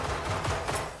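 Rifle fire in the video game Generation Zero: a rapid string of gunshot bursts packed into about a second, fairly loud and close, with no talking.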